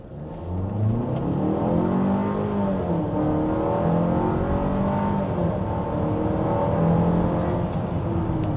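An MG QS 2.0T AWD SUV accelerating hard in sport mode, heard from inside the cabin. The engine drone climbs steadily in pitch through the gears, loud and continuous, with no talking.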